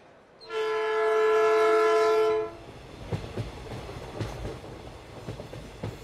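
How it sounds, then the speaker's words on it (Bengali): A train horn blasts for about two seconds as a sound effect in a dramatized audio story set on a train journey, followed by rhythmic rumbling clickety-clack of the carriages rolling along the rails. "এরপর ট্রেন ধরে আমরা রওনা দিলাম ক্যানিংয়ের উদ্দেশ্যে।"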